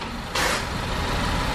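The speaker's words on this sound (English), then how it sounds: "I'm able to air the car up with my phone" Acura TLX air suspension airing up, a sudden hiss of compressed air that starts partway through and holds steadily over a low background rumble.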